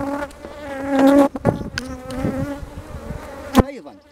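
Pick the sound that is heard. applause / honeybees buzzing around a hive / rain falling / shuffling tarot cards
honeybees buzzing around a hive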